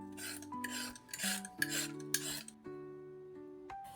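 A vegetable, likely a carrot or similar root, is peeled for Vietnamese do chua pickles, giving a series of close rasping scrapes in short bursts over a steady background hum and music-like tones.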